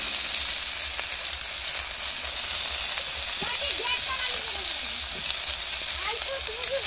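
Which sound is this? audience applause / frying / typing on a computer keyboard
frying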